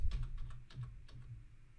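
A verification code is typed on a computer keyboard as a quick run of soft key clicks, several taps close together and then slowing, faint and close with no talking.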